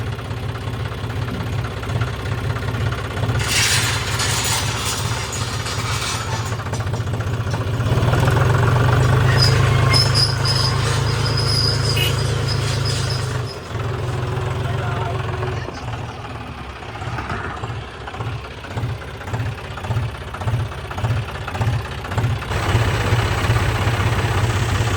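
A tractor with a trailer hitched on runs steadily at close range, a low throbbing engine note that rises and falls in speed, with a faint voice briefly heard over it.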